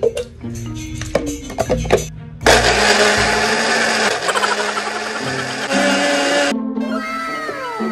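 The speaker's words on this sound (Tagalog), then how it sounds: "Bumili pa talaga ako kapo dito ng mini blender para makapang-trip sa kanya" A mini blender starts in short bursts, then roars loudly up close in one continuous whine for several seconds before cutting off, with a cat meowing in the brief gaps around it.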